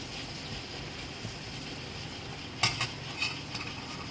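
A vegan Tunisian fricassé filling, salted and peppered, is stirred in a frying pan. A faint continuous sizzle runs underneath, with a few clinking utensil scrapes near the end.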